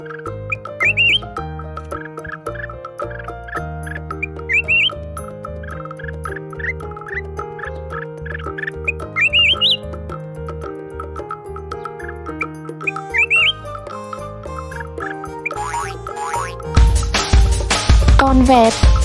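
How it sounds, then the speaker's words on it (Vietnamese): A red-whiskered bulbul gives short, lilting chirps and whistled notes, scattered and fairly faint above background music. "Chim chào mào."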